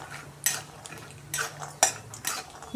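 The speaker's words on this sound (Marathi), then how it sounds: "शेंगदाणे आता आपण छान असे भाजून घेणार आहे तेलामध्ये।" Peanuts roasting in oil in a pan for curry leaf chutney, stirred with a utensil that gives several sharp scrapes and clinks against the pan at irregular intervals, close up and fairly loud over a faint background hum.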